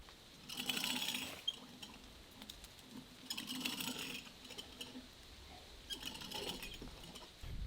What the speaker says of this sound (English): Let's try and lift that barrel with the pulley.